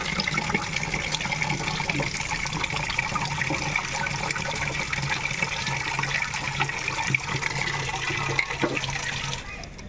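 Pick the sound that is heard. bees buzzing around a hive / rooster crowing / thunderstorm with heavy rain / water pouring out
water pouring out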